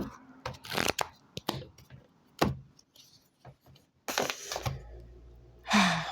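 Mystical Tarot cards being shuffled and the deck split, heard as close, soft riffling and sliding bursts with clicks and handling noises between them, and no talking.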